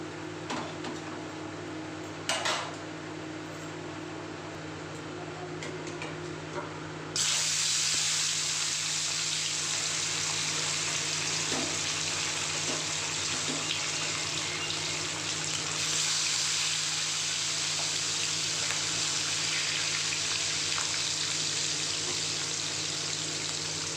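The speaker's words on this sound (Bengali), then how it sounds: "তেল গরম হয়ে গেছে একদম ধোঁয়া উঠছে তেল থেকে এবার আমি মাছগুলো দিয়ে দেবো" Chitol fish pieces dropped into smoking hot oil, a sudden loud, dense frying hiss that takes over from a quieter kitchen background with a few clatters and then holds steady.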